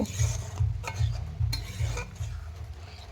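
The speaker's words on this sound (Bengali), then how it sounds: "আবারও হালকা নাড়াচাড়া করে আমি ঝোলটা নামিয়ে নিব" Fish curry with spice paste of cardamom, cloves and cumin being stirred in a pan, with a soft simmering sizzle and a few light spoon scrapes against the metal, close by.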